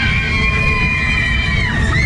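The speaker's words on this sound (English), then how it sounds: "Probably can't hear me with all the screaming." Riders scream and shout continuously aboard a Matterhorn fairground ride at Funderworld Bristol, a dense, loud wall of crowd noise with ride music tones running underneath.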